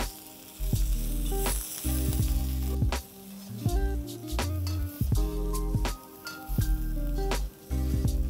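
Spiced potatoes with coriander and cumin powder and salt sizzling in a pan while being mixed, loud sizzling in bursts with short pauses, close, accompanied by steady musical tones.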